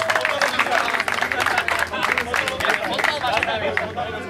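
Audience applause and cheering at a football tournament award ceremony, a steady wash of clapping from a crowd with babble and chatter mixed in, sustained and fairly loud throughout.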